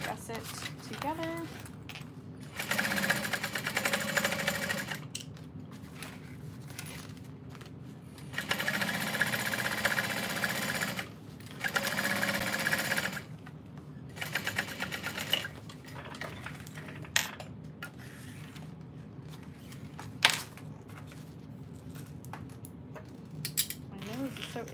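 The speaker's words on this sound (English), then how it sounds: "I'm just gonna baste the whole side gusset together" A sewing machine bastes a side gusset for a bowler bag in several short bursts of close, rapid mechanical stitching, with quiet pauses between the runs.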